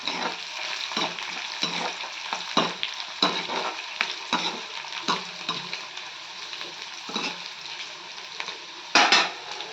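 Dried red chillies and fenugreek fry in a pan with a close, steady sizzle, broken by repeated scraping and stirring strokes and light clinks of a utensil against the pan.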